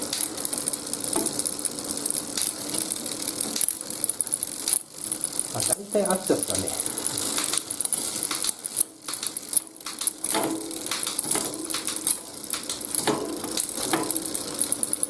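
A road bike's chain runs over the rear derailleur and sprockets during adjustment, giving continuous fast ticking and rattling with metallic clicks, close up, while a person speaks briefly.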